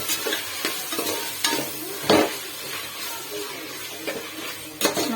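Chicken sizzles and fries in a pot nearby for biryani, with repeated scraping stirs against the metal over a steady crackle.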